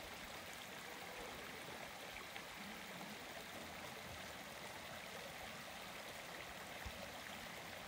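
Continuous rushing of a river stream, a broad steady wash of flowing water with no breaks, even in loudness and free of voices.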